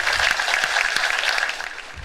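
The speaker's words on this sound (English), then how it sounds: "Give him a round of applause." Audience applause for a college football coach, three-time Pac-12 Coach of the Year, as a crowd at a talk claps steadily and fairly loudly, thinning slightly toward the end.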